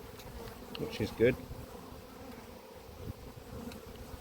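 A steady background hum of honey bees at an apiary hive continues while someone speaks a few words up close, with individual bees buzzing past.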